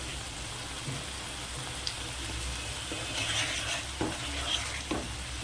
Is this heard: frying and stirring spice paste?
yes